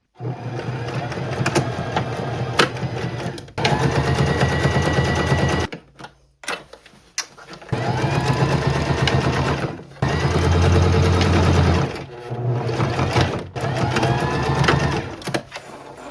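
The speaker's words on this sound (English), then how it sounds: "now we're going to sew a top stitch right under this seam here, as close to this hem as we can get" A sewing machine runs a top stitch along a garment hem, just under a seam, in several long steady bursts separated by brief pauses, close and fairly loud with no talking.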